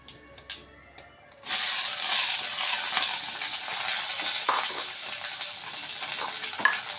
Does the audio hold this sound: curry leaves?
yes